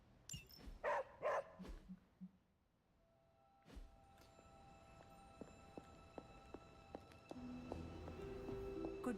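A dog barks in the Marvel's Midnight Suns video game, a cluster of sharp barks at the start, followed by sparse clopping steps and game sounds that build toward the end.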